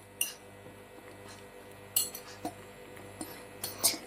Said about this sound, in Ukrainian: І збиваємо все до однорідності.